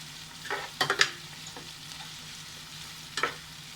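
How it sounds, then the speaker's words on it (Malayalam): Crushed ginger and garlic paste sautés in a hot pan, a soft steady sizzle punctuated by a few scraping stirs of a spoon, close and quiet with no voices. "അപ്പം ഇനി ഇത് നല്ലതുപോലെ ഒന്ന് വഴറ്റിയെടുക്കാം."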